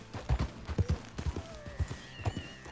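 Hooves clip-clop in an uneven gallop rhythm from a horse in the Red Dead Redemption 2 video game, moderately close, with a short whinny rising near the end over light background game ambience.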